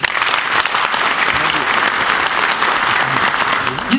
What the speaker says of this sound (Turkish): hepsine bir alkış istiyorum